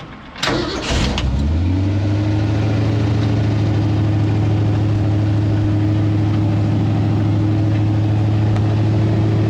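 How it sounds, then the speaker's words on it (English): A 1973 Ford Econoline E200 truck engine cranks and catches, then settles into a steady, loud, close idle with an even low hum and no talking. "Okay, so the truck at idle,"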